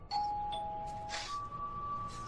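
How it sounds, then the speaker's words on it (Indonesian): A doorbell rings inside a house with two clear ding-dong tones, the first sustained and the second slightly higher, over a faint hiss and a brief rustle. "dan kemudian bel berbunyi"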